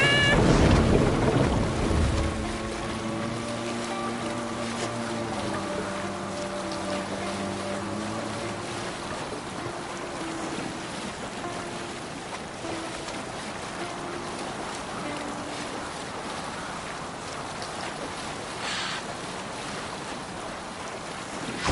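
Viking longship under sail on open sea in Assassin's Creed Valhalla, with steady wind and rushing waves around the hull, a low tonal hum droning beneath, no talking.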